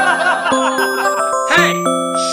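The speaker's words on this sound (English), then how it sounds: "I think my alarm on my phone went off again." A bright electronic phone alarm melody chiming in quick repeated tones, loud and close, looping without pause.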